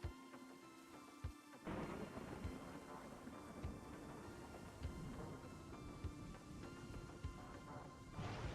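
Thunder rumbling and crashing through a steady downpour in a RimWorld psychic storm, with lightning striking colony structures; dense continuous roar with repeated louder booms and cracks, no talk.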